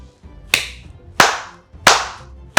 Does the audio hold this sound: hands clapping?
yes